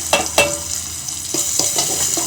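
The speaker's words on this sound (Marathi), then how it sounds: "छानपैकी मसाला होत आहे आपला तेलामध्ये" Masala spices sizzle in hot oil for drumstick dal as a spoon stirs and scrapes the pan, several sharp clinks over a soft frying hiss.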